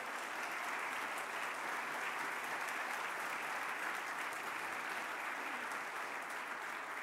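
Legislators in the Chilean Senate chamber applaud in homage, a faint but unbroken wash of clapping that stays level throughout.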